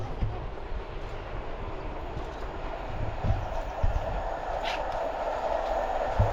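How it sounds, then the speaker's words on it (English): A train rumbles past at a distance in Wymondham, Norfolk, a broad steady roar of wheels and rails with occasional low thumps, building slightly toward the end. "There's a train coming."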